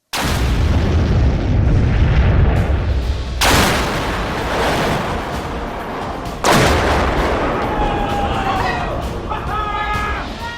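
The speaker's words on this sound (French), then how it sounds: "C'était vraiment une détonation à tout casser" A huge explosive detonation, ten times more powerful than earlier blasts, booms loud and close, then two more heavy blasts follow with long roaring, rumbling decays. Voices talk over part of it.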